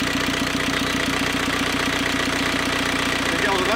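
A VW T25 van's 1.9 TDI diesel engine runs at a steady idle with a rhythmic knocking clatter, loud and close throughout the short stretch.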